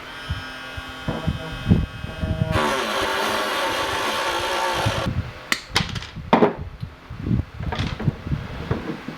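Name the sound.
Dremel rotary tool cutting through metal pliers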